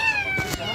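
A brief meow comes from a cat among a group of large cats eating, with a smaller cat pushing in to join the meal; the single short call sounds close and under a voice.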